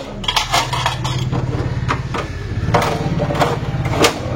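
Metal plates clatter and clink as they are taken off a token seed planter used for sowing maize, a run of close, uneven metallic knocks and scrapes with no talk.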